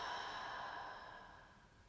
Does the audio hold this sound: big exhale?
yes